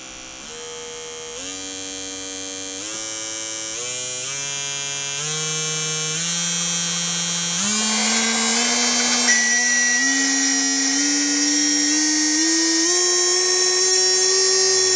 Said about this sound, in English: So now let's connect the DC motor.